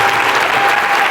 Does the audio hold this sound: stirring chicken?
no